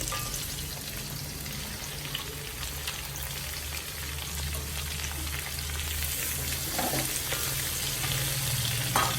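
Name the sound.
sliced onions frying in a pan for tomato fry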